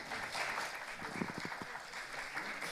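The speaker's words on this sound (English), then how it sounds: "Another round of applause for all our incubatees present here today." Applause from a summit audience for the incubatees, a steady broadband wash of many hands clapping throughout, moderately loud and fairly distant, with a brief voice or cheer rising in the middle.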